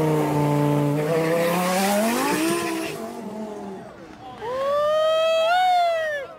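Modified Lamborghini Huracan racing a 1,000 horsepower Tesla, a loud close engine roar rising in pitch through the gears, then a brief dip before a second high revving surge, with voices underneath.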